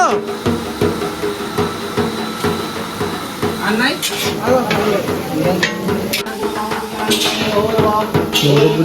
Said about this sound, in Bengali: সবজি রান্না শুরু হয়ে গেছে